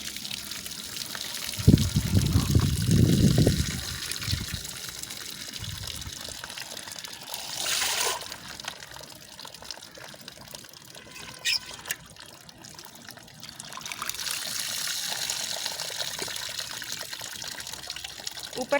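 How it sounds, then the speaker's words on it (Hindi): Boiling water being drained off freshly boiled rice for sweet zarda rice, a loud splashing gush in the first seconds, then quieter trickling and dribbling with a few later bursts of running water. "चावलों का हम पानी निकाल लेंगे।"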